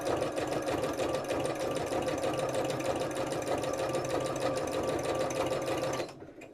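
A sewing machine runs fast and steady during free-motion stitching, its close, continuous whirring rattle holding even for about six seconds before it slows and stops.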